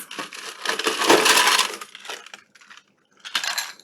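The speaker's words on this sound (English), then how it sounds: "then we'll top it off with some ice" Ice cubes tumble into a glass of boba, a burst of loud crunching clatter followed by a few smaller clinks and a final rattle, close and with no speech.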